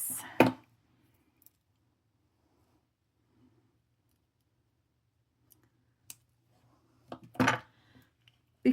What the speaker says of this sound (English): Let me go ahead and snip this.